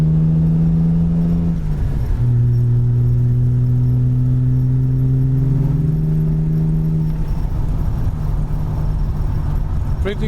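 A fuel-injected Triumph TR6 on a test drive, its engine droning steadily from inside the car, dropping briefly as it shifts, then pulling and rising again, loud and constant with no talk.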